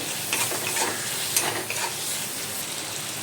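Beef fat being stirred in a pan with dry chillies, cumin seeds and onion, producing a steady, loud sizzle with scraping stirs on top throughout, no talk.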